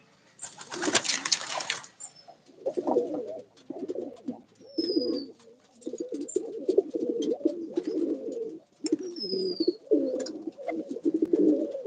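Pigeons coo in repeated low, throaty bursts after their morning release. A brief broadband rush of wings or wind comes early on, and a few thin high chirps appear over the cooing.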